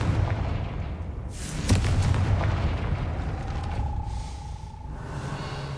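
A Confringo fire spell in a Harry Potter video game bursts with a heavy boom that rolls into a rumbling, crackling blast, fading into a brief whistling tone and low ambience.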